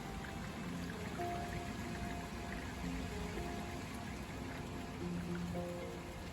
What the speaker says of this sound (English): rainy weather.